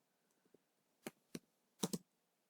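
Sparse keystrokes on a computer keyboard: a few faint taps followed by four sharper clicks in quick succession, close and quiet in an otherwise silent room.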